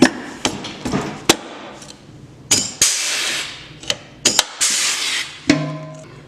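Rivets are set into a Ski-Doo Gen4 snowmobile bulkhead brace kit: a close series of sharp, irregular snapping clacks with quieter mechanical clicks between them.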